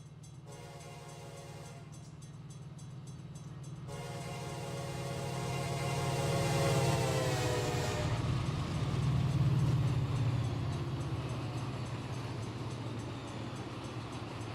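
A loaded train of orange juice cars rolling by in the Run8 train simulator near Jacksonville, Florida, with a steady rumble that swells and fades and horn blasts sounding in the first half.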